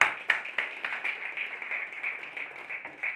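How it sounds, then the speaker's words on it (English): Applause for Don Bosco Siliguri: a dense, moderately loud patter of many hands clapping with a few sharper individual claps, steady throughout and heard without talk. "It deserves a huge round of applause for this."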